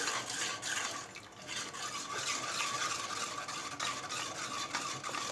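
Wheat starch batter for kurdai being stirred by hand in a pot, a constant wet swishing and sloshing with a faint watery hiss throughout.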